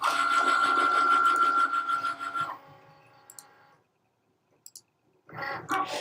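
Cricut cutting machine working through a glitter design: a loud buzzing motor whir with carriage movement for about two and a half seconds, then fainter clicks and quiet, before another burst of motor noise.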